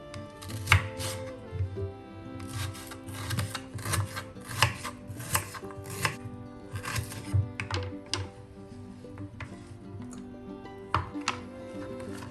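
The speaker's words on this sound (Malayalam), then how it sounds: "ഇനി നമുക്ക് സവാളയും കൂടെ നീളത്തിൽ തന്നെ ഒന്ന് കട്ട് ചെയ്തെടുക്കാം" A knife slices an onion lengthwise on a board while capsicum-onion mezhukkupuratti is prepared, giving a steady series of close, sharp chopping taps with a low background hum.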